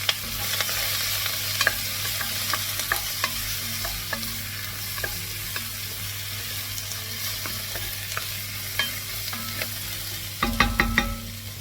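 Chopped vegetables and half a tablespoon of flour frying in a pan for a slow-cooked beef cheek stew, a constant soft sizzle with scattered scraping stir strokes and a louder cluster of clatter near the end, no talking.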